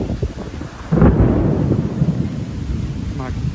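Thunder rumbling from a lightning storm at Disney's Animal Kingdom, a sudden low rolling boom swelling then fading, with a brief voice near the end.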